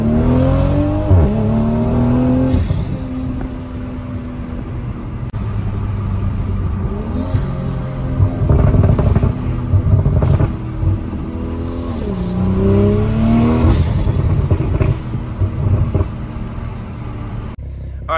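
A Toyota MK5 Supra with an Active Autowerke downpipe and Tomei titanium exhaust roars as it revs and accelerates past, rising and falling in loud sweeps before fading at the end.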